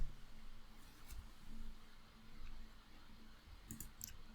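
A few faint, quick computer mouse clicks, made while connecting to a Delta DVP PLC over CANopen in DIADesigner software, sound against a quiet room hum.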